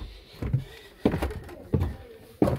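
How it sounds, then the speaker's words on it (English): An oak door in an old farmhouse is handled, giving four separate thuds and knocks at fairly even intervals, close by, over a quiet room with no talk. "Lovely oak doors."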